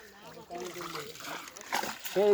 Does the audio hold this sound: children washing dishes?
no